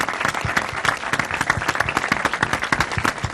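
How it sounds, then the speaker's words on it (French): Audience applause welcoming a guest on the Congolese program Congo d'Excellence, brisk, dense clapping from a nearby crowd, sustained and fairly loud throughout. "ce sont des applaudissements"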